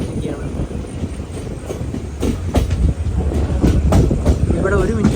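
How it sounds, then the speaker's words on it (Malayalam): The Palaruvi Express pulls into Mulanthuruthy railway station, its wheels clattering in a rhythmic clickety-clack with a rising rumble and a brief squeal near the end, heard from close by with voices in the background. "മുളന്തുരുത്തി റെയിൽവേ സ്റ്റേഷനിലേക്ക് ഇതാ നമ്മുടെ ട്രെയിൻ എത്തിക്കൊണ്ടിരിക്കുകയാണ്"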